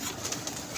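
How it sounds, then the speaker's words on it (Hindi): A pigeon coos softly nearby, a brief low murmuring call over faint background noise. "चिट्टी कबूतरी है ये"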